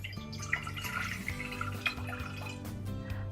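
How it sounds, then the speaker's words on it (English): Water bubbling and gurgling at a boil in a pot, with small irregular pops and a steady low hum underneath, close by. "Don't know if you can hear it, but my water is boiling."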